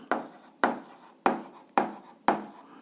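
Pen strokes on paper while an algebra expression is written out by hand, five short scratchy strokes in a steady rhythm, each a sharp attack that fades quickly, close and fairly quiet with no voice.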